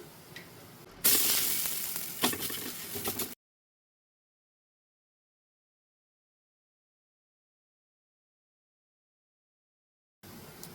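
A rice roti (akki roti) roasting on a hot pan over high flame gives a loud, steady sizzle for about two seconds, then falls silent, with a faint sizzle returning at the very end.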